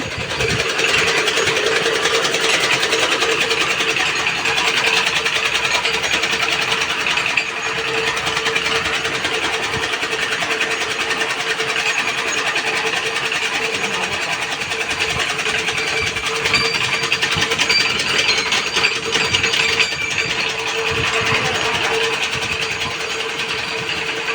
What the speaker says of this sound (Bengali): অসাধারণ গাছ কাটার মেশিন দেখেন কীভাবে ঘাস কাটে